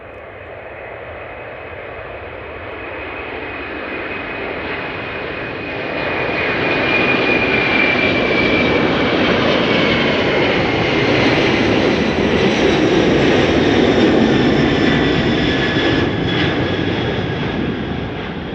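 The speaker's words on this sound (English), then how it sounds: "Singapore Airlines Cargo, flight 7394, going to London Heathrow. It's on the move." A Singapore Airlines Cargo jet bound for London Heathrow rolls out for departure at Schiphol, its engines a broad roar that swells partway through and holds loud and steady, with a thin high whine riding on top.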